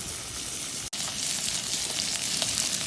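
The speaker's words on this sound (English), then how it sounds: "into the pan go the potatoes and the garlic" Potatoes and garlic frying in a pan for nettle soup, a loud, steady, close sizzle that drops out for an instant near the start and then carries on unbroken, with no talk.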